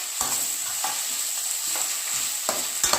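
Tomatoes are stirred into frying Maggi noodle masala in a pan, a continuous loud sizzle punctuated by about six quick scraping strokes of a spoon against the pan, close up with no voices.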